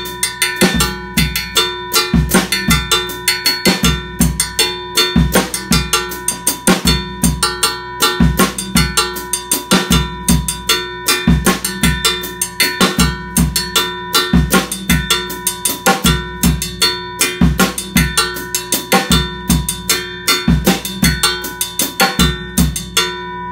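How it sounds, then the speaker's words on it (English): A drum kit plays a steady Latin mambo groove, with the right hand striking a bright cowbell in a continuous bell pattern over kick and other drums, loud and close with no talking. "Then the right hand is continuing to play the mambo pattern"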